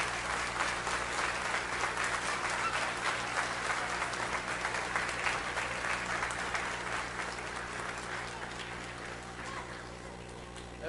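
A church congregation at a congress service claps together in a long, steady burst of applause that tapers slightly toward the end, with faint voices mixed in.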